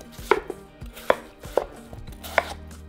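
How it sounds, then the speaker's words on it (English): A knife cuts a honeydew melon into small cubes on a board, a series of sharp, close chopping strokes spaced irregularly, each a crisp thud with no voices. "just flip it to the other side and start cutting into small cubes"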